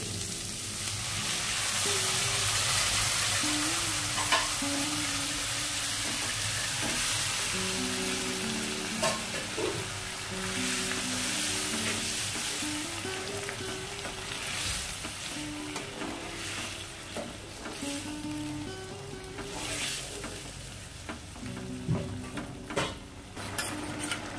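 Chopped vegetables sizzle and fry steadily in a pan alongside fried prawns, with a constant crackling hiss, occasional clinks and scrapes of a utensil stirring against the pan throughout.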